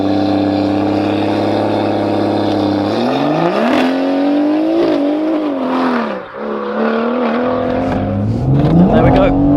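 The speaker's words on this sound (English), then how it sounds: "you then need to plant your foot on the accelerator and then build the boost and go." A BMW M140i launches hard using launch control, its engine holding a steady high drone and then climbing in pitch through loud, sustained acceleration with brief dips at gear changes, heard close and alone.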